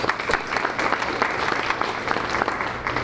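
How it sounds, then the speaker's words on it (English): Audience at a school board meeting clapping steadily in a brief round of applause, moderately loud indoors with many hands overlapping and no talk. "Let's give these fellas a round of applause."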